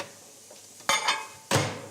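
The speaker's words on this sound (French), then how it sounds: "mes champignons sont assaisonnés. On les fait sauter." Seasoned mushrooms being sautéed in a pan, with a faint start and then two loud clattering bursts of pan and utensil noise, heard alone.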